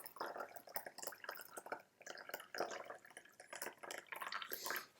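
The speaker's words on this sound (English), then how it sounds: "Then I'm just going to pour in 60 degrees Celsius water." Water at 60 degrees Celsius is poured into a teapot holding karigane tea, a close, soft trickle of splashes and drips running unevenly throughout with no speech.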